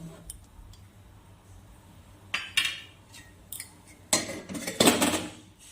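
A metal lid comes off a pot of hilsa fish cooking with potatoes and eggplant, bringing a few loud clattering clanks of metal after a quiet stretch, close by and without speech.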